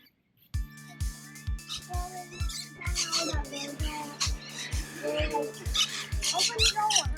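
Parrots squawk in short, sharp bursts at a bird park, scattered over a steady low mechanical ticking, with people talking nearby.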